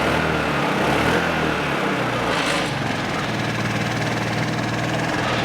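A carbureted Vespa ET4 scooter from around 2000, automatic choke shut off, gets a couple of small throttle blips and then settles into a steady, close, buzzing idle that runs unbroken throughout.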